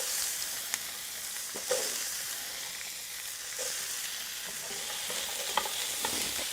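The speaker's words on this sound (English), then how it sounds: "I can hear it sizzling. I'm gonna throw in the onions." Onions sizzling in hot coconut oil in a pan, a steady crackling fry with occasional sharp pops and stirring clatters, close and continuous, no voices.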